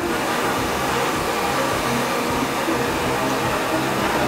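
A hair dryer blow-drying a fringe straight down in a salon master class, giving a steady, loud, unbroken whoosh from start to finish with no talking.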